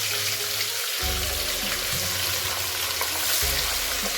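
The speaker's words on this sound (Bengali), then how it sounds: "চলুন এবার মাছগুলো ভেজে দিই।" Pabda fish fry in hot oil in a home kitchen on a low flame, giving a steady sizzling crackle with a few brief bubbling bursts and no talking.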